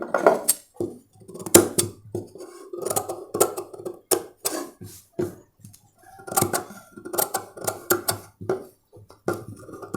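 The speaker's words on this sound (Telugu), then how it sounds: "ఫ్రెండ్స్ ఇప్పుడు మనం కట్ చేస్తున్నాం." Cutting cloth for a designer blouse sleeve on a tailoring table, with repeated snipping and clattering handling noises in irregular bursts, close and fairly loud, with no talk.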